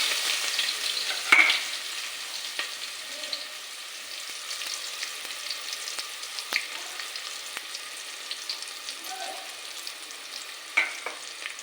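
Chopped onion fries with curry leaves in hot oil for a mutton curry, giving a steady close sizzle and hiss with a few scattered spoon clinks and scrapes against the pan.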